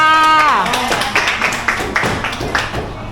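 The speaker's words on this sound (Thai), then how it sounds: "ปรบมือให้ตัวเองหน่อยค่ะ" A classroom of students claps for themselves after a teacher's short spoken prompt, a quick burst of scattered hand claps that fades over a few seconds.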